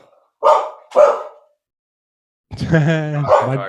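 Two sharp dog barks close by, then after a short pause a drawn-out whining, yelping bark.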